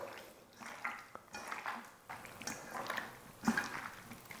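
Hands mixing menudo meat with soy sauce and calamansi in a bowl, giving soft wet squelches and occasional clinks against the dish, in irregular bursts at close range.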